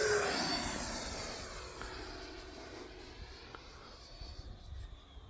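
E-flite Viper 90mm electric ducted-fan RC jet passing at speed, its whine loud at first and then fading steadily into the distance as it flies away.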